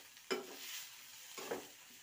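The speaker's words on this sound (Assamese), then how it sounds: "এতিয়া মই জলকীয়াকেইটা লাহেকৈ লৰাই দিম।" Broken green chillies stirred gently while frying in a pan, two soft scraping stirs over a faint, quiet sizzle.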